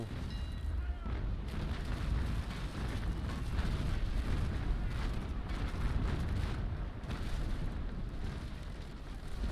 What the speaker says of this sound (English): Any second now he's gonna unleash a full broadside into us.